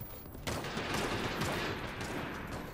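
Heavy gunfire crackles through a match of the battle royale game Realm Royale, a dense barrage of overlapping shots that starts abruptly and keeps going loudly for several seconds.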